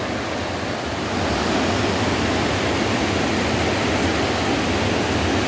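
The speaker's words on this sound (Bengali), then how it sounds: "দেখুন জলের আওয়াজ।" The Rangit River rushes near Thapa village in Darjeeling, a loud, continuous roar of flowing water with no break or voices.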